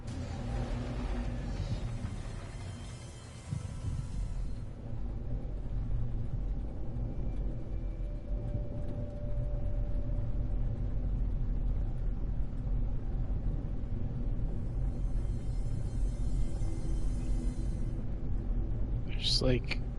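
Storm in a video game, a low continuous rumble with wind-like noise swelling and fading, under a player talking.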